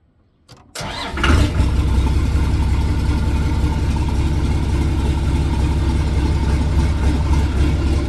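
Caterpillar bulldozer diesel engine cranks briefly, catches with a sharp surge, then settles into a steady, loud, low rumbling idle that runs on without any voices.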